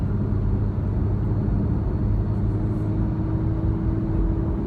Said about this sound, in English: As you know, it's a twin turbo engine.